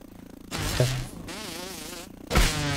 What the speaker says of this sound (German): Das wuchert hier mit Mücken.